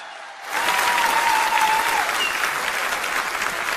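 A seated audience at a Hindi poetry recitation breaks into loud, sustained applause that swells suddenly and continues steadily, with a faint whistle-like tone briefly audible through the clapping.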